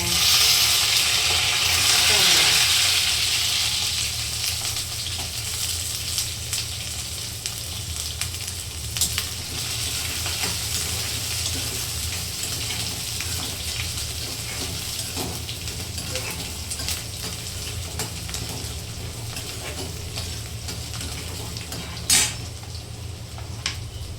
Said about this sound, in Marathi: आता मोहरी टाकून घेऊया आणि मोहरी नंतर लसूण, कढीपत्ता,